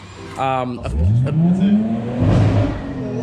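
A Nissan Skyline R34 engine revs and rises in pitch as it approaches, a throaty exhaust note over brief background chatter.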